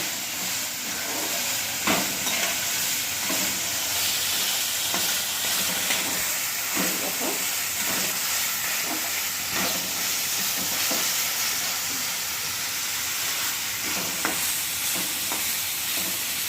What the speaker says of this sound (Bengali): আমি এটাকে একটু নাড়িয়ে দিলাম।